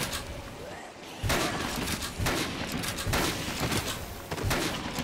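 Gunfire from the zombie video game Dead Rising, a series of sharp bursts spaced through the clip over a steady game background, with a player's voice talking over it.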